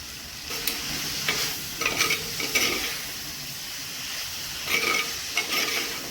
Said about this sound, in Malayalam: ഇതെല്ലാം കൂടെ നല്ലതുപോലെ ഒന്ന് മിക്സ് ചെയ്തിട്ട്